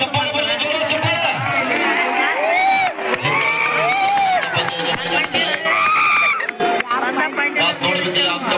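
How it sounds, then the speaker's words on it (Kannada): A crowd roars with cheers, whoops and shouts at a girls' mat kabaddi match between Bangalore and Mysuru, loud and continuous, with dense babble and a commentator's voice mixed in. "ಚಪ್ಪಾಳೆ ಬರಲಿ, ಜೋರ ಚಪ್ಪಾಳೆ."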